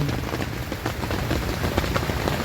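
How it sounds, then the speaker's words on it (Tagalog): Steady rain patters densely on a camping tent at a beach, close and constant, with scattered louder drops throughout. "pa umuulan"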